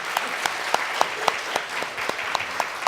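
Audience clapping at a university presidential candidates' public debate, a steady round of hand claps filling the hall with sharp rhythmic peaks, fairly close and loud, with a faint voice beneath.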